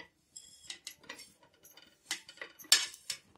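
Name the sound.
taking roasted dried baby prawns out of the pan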